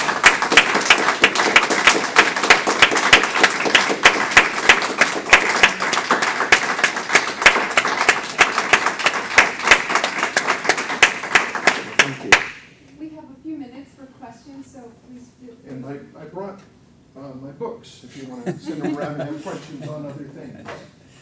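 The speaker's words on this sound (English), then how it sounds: "you can yell and clap too" Audience clapping at a music forum, a dense, sustained round of applause for about twelve seconds that ends abruptly, followed by quiet speech.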